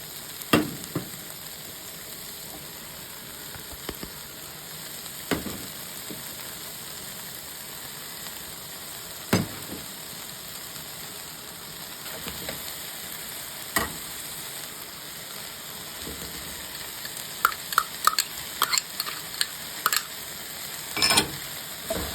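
Garlic, tomato paste, sauerkraut, spices and prunes are sautéed in a pan for Polish bigos, giving a continuous low sizzle and hiss with scattered sharp clicks and scrapes of stirring, and the clicks grow busier toward the end.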